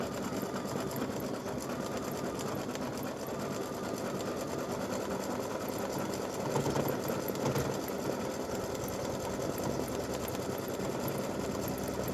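A sewing machine runs steadily while satin stitching the edges of a freestanding lace awareness ribbon, giving a constant fast mechanical whir with a rhythmic rattle throughout and no talk.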